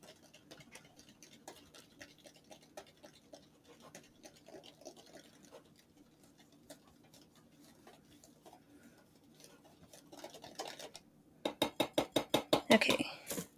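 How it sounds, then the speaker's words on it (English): Whisking a cream of tartar mixture in a bowl for cookies, faint light ticking taps at first, then a fast loud run of rhythmic whisk strikes against the bowl near the end, close by, no talk. "I'll give that a good whisk."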